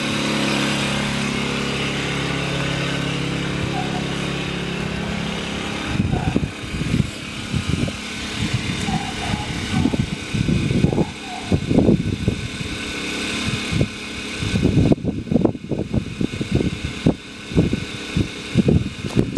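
Kipor IG1000P inverter generator, U.S. version, running close by with a steady, loud engine drone, joined partway through by gusty wind buffeting that adds irregular low rumbles.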